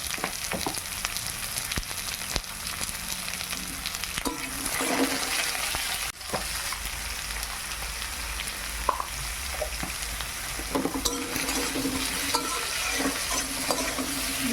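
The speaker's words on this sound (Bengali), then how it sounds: "আমি কচু আর বেগুনটা ভালো করে ভেজে নেব।" Pieces of taro and eggplant sizzling in hot oil in a pan, a steady bright crackle with occasional stirring clinks and scrapes, no talking.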